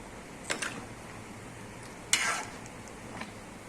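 Chicken curry for pulao is stirred in a pot: a quiet background with a few scattered scraping and clinking stirs, the strongest just past the midpoint, and no talking.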